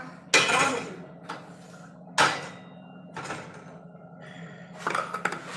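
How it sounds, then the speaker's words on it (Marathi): A few heavy metallic clanks as a griddle pan is set down on a stove, separated by short pauses, with faint speech between. "दुसरा तवा ठेवा लागते"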